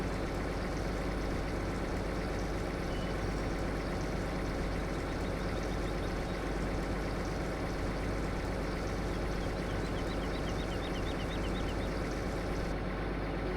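In the video game Farming Simulator 15, a tractor engine runs in a steady, continuous low idle-like rumble at moderate volume, unbroken from start to finish with no voices.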